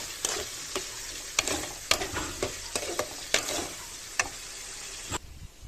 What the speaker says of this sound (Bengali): প্রথমে টমেটো আর পেঁয়াজগুলো একটু ভেজে নিচ্ছি।